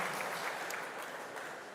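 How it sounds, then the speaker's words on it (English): Round of applause from an audience at a Toronto Tech Week homecoming event, a dense steady patter of many hands heard alone at moderate distance for under two seconds. "Can we give a huge round of applause for Sonia, Raquel, and Mike"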